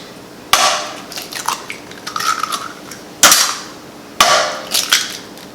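Two eggs are cracked into a bowl of wet ingredients for a hot dog batter, heard as sharp, close shell taps at the start and near the middle and end, each followed by softer shell rustling and handling.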